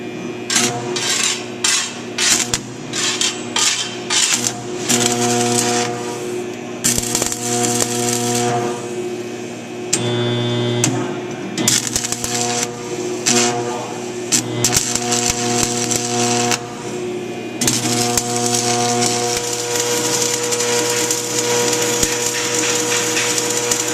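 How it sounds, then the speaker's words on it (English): A stick welder runs a V-butt weld on metal, making a loud, close crackling buzz in bursts of varying length separated by brief pauses. "now I'm doing V-butt welding with the stick welder"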